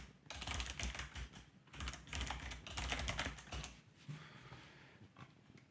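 Rapid keystrokes on a computer keyboard as a folder name is typed, in dense bursts with brief pauses, close and clear with no talking.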